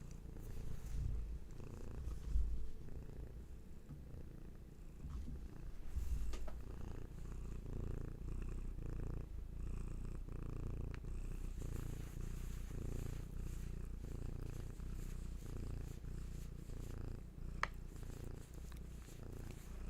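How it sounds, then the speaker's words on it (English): A cat purring very close to the microphone, a low steady rumble continuing for the whole stretch with occasional soft bumps. "I swear she only purrs into the microphone when it's community distance Reiki"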